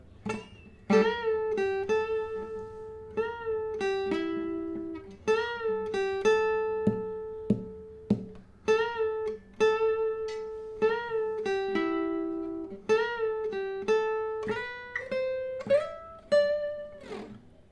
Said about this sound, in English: So all put together the lead sounds like this